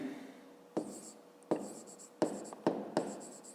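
Pen writing on paper during a fifth-grade maths lesson, a few quick scratchy strokes in short separate bursts, close and clear against a quiet room with no talk.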